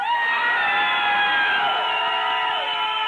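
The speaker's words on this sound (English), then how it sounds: "let me hear you scream your lungs out right now" A concert crowd screams, whoops and cheers in a loud, sustained roar that holds steady for about three seconds with no talking over it.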